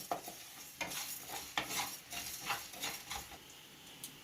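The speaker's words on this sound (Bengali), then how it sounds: "কড়াইয়ের মধ্যে নিয়ে দিলাম ভাজার জন্য" Whole spices dry-frying in a wok for a mutton-style green jackfruit curry, with a soft sizzle and repeated stirring scrapes and taps that come in bursts every second or so.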